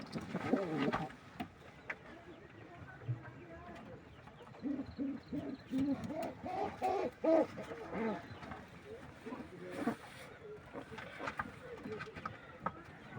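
Racing pigeons cooing in a loft, a soft run of low, throaty coos of moderate loudness, with someone talking over them.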